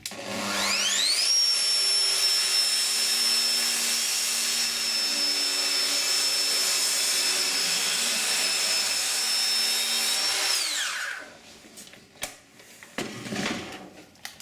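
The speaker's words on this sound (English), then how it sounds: "my track is going to run along the circular saw is going to run along the track" A Festool circular saw spins up to a loud, high whine and cuts steadily along a Festool guide track for about ten seconds, then winds down, followed by a few close knocks and clatters.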